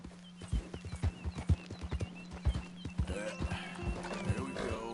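A horse gallops in a video game, its hooves pounding in a quick, close rhythm under a low steady hum, followed by a whinny and a voice speaking over the hoofbeats toward the end.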